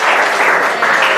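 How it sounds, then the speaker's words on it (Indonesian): A classroom audience gives a brief, loud burst of steady clapping for fellow students who have just presented. "Kita beri tepuk tangan untuk teman-teman kita yang sudah maju."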